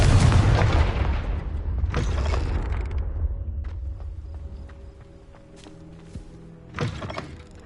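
A Confringo fire spell bursts in Hogwarts Legacy with a loud broadband blast at the start, a second burst near two seconds, then a clattering, creaking tail of debris and mechanisms and a final thump near the end.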